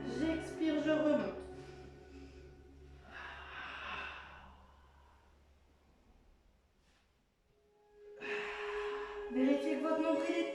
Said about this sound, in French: J'inspire, j'expire, je remonte.